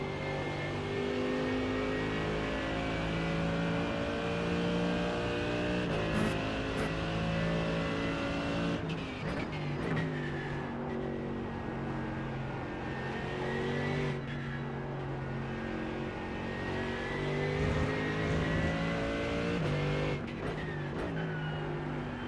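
A Porsche GT3 race car engine in iRacing revs steadily through the gears, with sharp shifts and repeated rises in pitch as it accelerates, loud and close throughout without talk.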